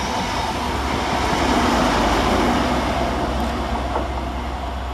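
A Castle Set high-speed passenger train, power cars 43156 and 43042, rumbles through Lawrence Hill station in a continuous broad roar with a low steady drone, fairly loud and unbroken, with no voices over it.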